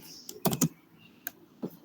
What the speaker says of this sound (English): someone typing, someone is typing